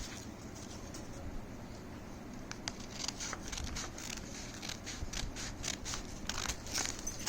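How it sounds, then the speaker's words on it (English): Scissors snip repeatedly through paper strips in a quick series of crisp clicks, close by, over a low background hum with faint bird sounds. "you have to go on cutting it like this with help of scissors"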